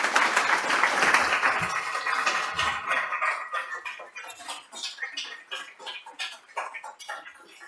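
Audience applause for a guest speaker at a conference, a dense wash of clapping that thins into scattered individual claps as it fades.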